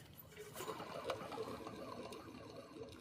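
A worn, dirty alternator bearing in the engine of a 2005 Chevy Optra gives off a faint, steady whirring and grinding drone. The rhythmic mechanical chatter stays continuous throughout and sounds quiet and slightly distant, with no voices.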